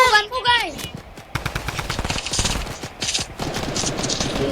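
Rapid bursts of automatic gunfire from a drum-magazine gun in an online shooter game, loud and dense sharp cracks in quick succession, with a voice briefly heard at the start.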